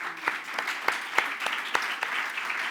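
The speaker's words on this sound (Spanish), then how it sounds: "Yo quería pediros pues, un aplauso para vosotros dos." Audience clapping at a panel discussion event in Barcelona, a modest crowd giving sparse, individually distinct claps with a few sharp louder hits, heard from a short distance with no talk over it.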